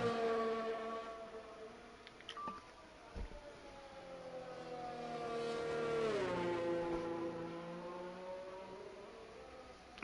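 Simulated Formula 1 race car engine on a hot lap around the Australian Grand Prix circuit in an F1 video game, a steady high-pitched whine rising and falling through gear changes, loud and continuous with no talking.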